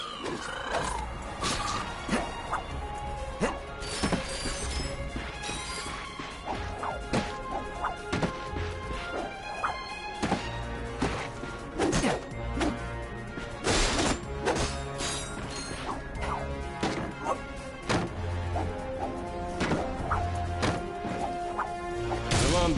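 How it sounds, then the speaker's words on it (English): Wooden crates smashed in a video game, loud repeated cracking crashes and splintering thwacks at an irregular pace, close and dense throughout. "Look at him smashing crates."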